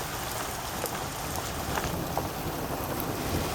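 Heavy rain pours steadily during a thunderstorm, a dense, even roar of falling water that fills the whole clip with no voices over it.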